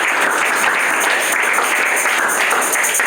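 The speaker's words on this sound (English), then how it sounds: "Let's clap our hands to the Lord." A church homegroup congregation claps hands to the Lord after a blessing, a loud, dense, continuous wash of clapping that sounds close and slightly harsh, with no talking over it.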